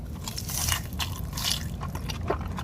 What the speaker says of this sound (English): Nashville hot chicken crispers. Damn, that's crunchy.